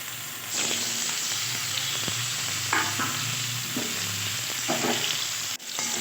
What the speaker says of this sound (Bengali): শুকনো লঙ্কা তেজপাতা আর ফোড়ন একটু ভাজা ভাজা হয়ে গেলেই